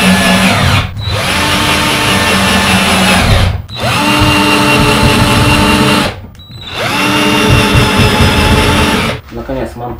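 A power drill drives into wooden slats for a homemade softbox frame, loud and close, in three long whining bursts that rise to speed and cut off between runs.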